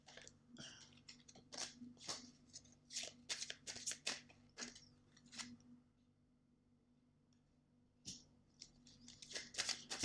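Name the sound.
shuffling oracle cards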